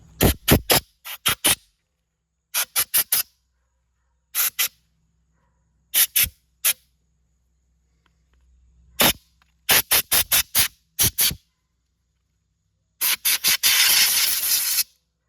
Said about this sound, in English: first we're gonna spray out these covers with some compressed air